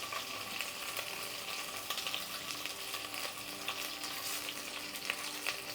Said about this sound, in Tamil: வெங்காயம் லைட்டாக வதங்கட்டும்.